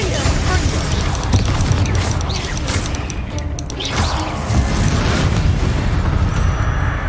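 Confringo blasting spell explosions in Hogwarts Legacy, loud continuous crashing booms and smashes that rumble on without pause amid combat noise.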